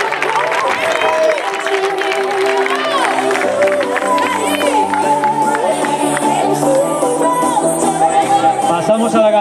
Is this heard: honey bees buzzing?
no